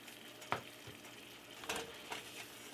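Eggplant is stirred in a pan on the stove, a soft sizzle running underneath a few sharp utensil scrapes and clacks against the pan, quiet and close with no talking.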